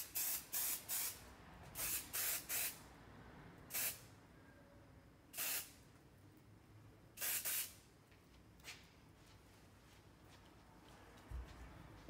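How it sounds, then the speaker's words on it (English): Hair texture spray is sprayed from an aerosol can onto a freshly cut pixie in a salon, sounding as a series of short, sharp hissing bursts, some in quick clusters and others spaced apart. "Finish with some texture spray."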